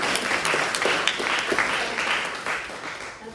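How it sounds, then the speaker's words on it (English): An audience applauds students leaving school on their last day, at a senior panel event. The clapping is steady, dense and moderately loud throughout, with no voices on top. "to start with the round of applause for students who leave school on the last day of school"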